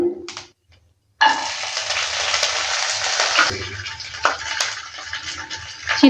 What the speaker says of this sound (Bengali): বাদামটা দেওয়ার পর ভালো করে আবারও নেড়ে চেড়ে নিচ্ছে বাদামটাকে একটু হালকা ভেজে নিলাম